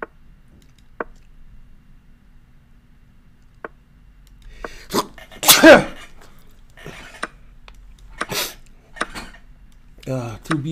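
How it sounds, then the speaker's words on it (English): One loud, sudden sneeze breaks out midway through a quiet stretch of a chess livestream, surrounded by sparse clicks and taps, with a little speech near the end. "And a big sneeze."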